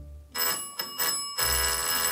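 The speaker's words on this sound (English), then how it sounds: "let's see if I throw the switch, if the bell will ring" Electric bell on a simple demonstration circuit rings when the switch is thrown, a bright continuous metallic ringing that starts abruptly and holds steady for about a second before cutting off.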